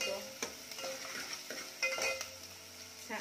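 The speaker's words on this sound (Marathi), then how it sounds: "कांदा छान रंग बदलेपर्यंत भाजून घेऊया" Onion, salted to speed cooking, fries in a pan while a spoon stirs it: faint, soft sizzling under repeated light scraping and clinking of utensil against metal at an irregular rhythm.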